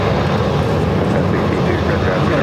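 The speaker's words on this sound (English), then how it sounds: "Taking off on the south side on runway 7 left." Airliner engines roaring steadily on takeoff from runway 7 left at Phoenix Sky Harbor airport, a loud continuous broadband rumble that holds constant throughout, with voices talking faintly underneath.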